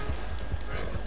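Horse galloping in Red Dead Redemption, a quick run of low hoof thuds in an even rhythm under constant game background, about a second long.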